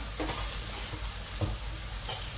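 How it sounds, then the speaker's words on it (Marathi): Cooked dal being mashed in a pot over a low gas flame for Hyderabadi dalcha, a few soft wet squelches and scrapes over a steady sizzle. "आता ही डाळ आहे ना, ही डाळ आपण थोडीशी घोटून घ्यायची आहे."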